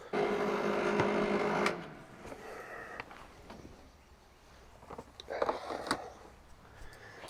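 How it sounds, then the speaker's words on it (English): Steel pieces for a trammel tool used in building a brick oven are ground at close range: a loud, steady grinding whine runs for under two seconds, then gives way to quieter scraping and handling noises. "So starting to grind my edges and weld up the pieces for the indispensable tool."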